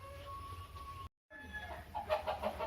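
A few soft hen clucks and short calls, fairly quiet, with a brief gap of silence midway and some low background rumble.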